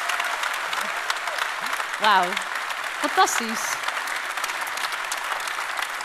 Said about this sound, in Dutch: een heel hartelijk applaus voor Laurens van den Akker